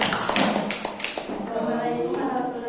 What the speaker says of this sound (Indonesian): Dengan tepuk tangan untuk kelompok 3